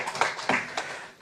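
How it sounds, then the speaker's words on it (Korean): A church congregation at a Sunday worship service gives a short round of applause after a hymn, several hands clapping softly in a brief scattered burst that fades quickly. "우리 경의의 박수 하겠습니다."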